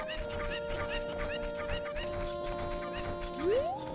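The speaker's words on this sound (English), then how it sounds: "Alright, where's that other chicken?" A chicken in the video game The Legend of Zelda: Ocarina of Time gives repeated short clucks at a moderate level over a steady game background, and a rising tone sweeps up near the end.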